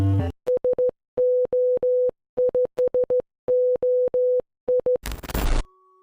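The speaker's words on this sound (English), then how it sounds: "the main menu theme. It's literally Morse code for SOS, but set to a rhythm" A video game's main menu theme sounds out Morse code SOS as steady electronic beeps, short and long pips grouped in a rhythmic pattern. A brief burst of harsh noise cuts in at the end.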